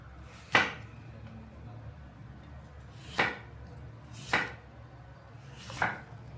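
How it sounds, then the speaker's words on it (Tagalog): Knife slicing cucumber on a board, four separate sharp chops spaced irregularly over several seconds, close and clear against a quiet background. "Isunod na rin nating hiwain yung ating pipino."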